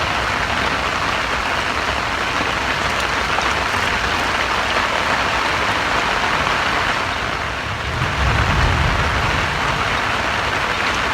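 Steady heavy rain hisses continuously at a fishing pond, a dense even wash of sound with no talk and a slight low rumble near the end.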